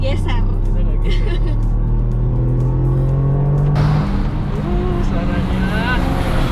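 A Toyota GR Yaris engine drones loudly from inside the car on a Formula E circuit, its pitch climbing steadily through a gear before a shift and rough continued acceleration.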